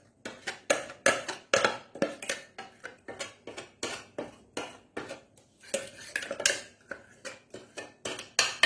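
A spoon clinks and scrapes steadily against a metal vessel while stirring a thick finger millet batter, in quick repeated strokes, close by, with no talking.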